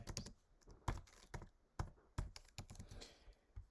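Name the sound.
typing a notebook name on a computer keyboard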